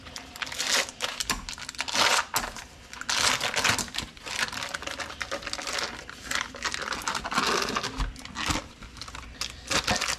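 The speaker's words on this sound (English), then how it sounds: "Get the unwrapping of the cream cheese," A package of cream cheese is unwrapped, giving continuous close crinkling and crackling of foil-like wrapper with sharp tearing rustles throughout, fairly loud.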